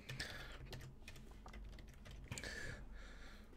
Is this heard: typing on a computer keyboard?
yes